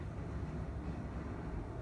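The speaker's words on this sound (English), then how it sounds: "if you hear the train in the background" A train passing close to a home, heard as a steady low rumble that fills the background throughout with no talk over it.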